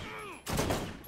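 Gunfire in the video game Borderlands, a short burst of shots that breaks in suddenly after a quieter moment and rings on briefly, moderately loud.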